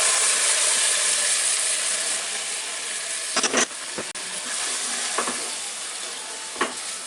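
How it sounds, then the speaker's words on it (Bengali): Soaked masoor lentils fry in mustard oil in a pan, giving a loud, even hiss of sizzling broken by a few brief stirring clatters. "এখন আমি তার মধ্যে এই কচলা রাখা ডাইলগুলা দিয়ে দিব, দিয়ে একটু ভাজবো, অল্প একটু ভাজবো"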